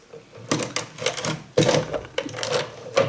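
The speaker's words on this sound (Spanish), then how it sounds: "y perforamos." A binding machine punches holes through covers, giving a close, loud series of sharp mechanical clacks and crunches in irregular bursts.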